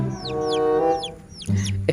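Colourful chicks give steady high cheeping and clucking calls close by, with repeated chirps layered over a droning hum and a louder burst near the end.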